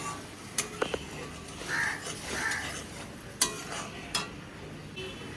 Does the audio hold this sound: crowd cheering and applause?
no